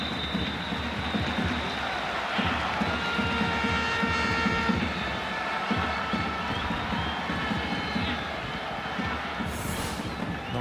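Around 75,000 fans create a steady, broad roar inside a Spanish stadium during a Barcelona versus Atletico Madrid football match just after midnight, with faint chanting tones running through the wash of noise.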